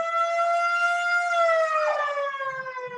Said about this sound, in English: We have an ambulance out here.